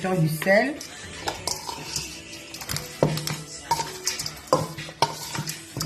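A spoon scrapes and clinks against a pot while a liboke ya ngulu mixture with chives and bell pepper is stirred, producing irregular knocks and scrapes over a faint sizzle, with a voice speaking intermittently.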